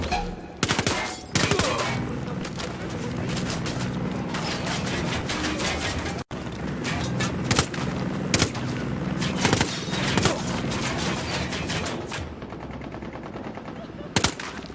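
Rapid bursts of fixed turret machine-gun fire in Ghost Recon Wildlands, loud and sustained, with short pauses between repeated volleys over game background noise.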